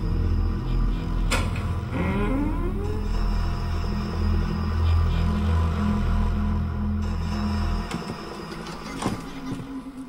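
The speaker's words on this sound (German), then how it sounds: "All die Schritte auf den knarzenden Dielenböden" Wooden floorboards creak in the Project Zero horror game, drawn-out groaning creaks over a low droning rumble, with a couple of sharp knocks and a fading tail.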